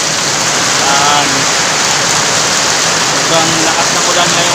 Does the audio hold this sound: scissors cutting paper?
no